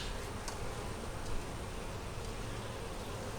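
Honey bees swarm around an open double-deep eight-frame hive during an inspection, giving a constant dense buzz that is faint and even throughout.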